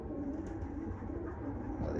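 Pigeon cooing at close range, soft repeated low coos over a steady background murmur.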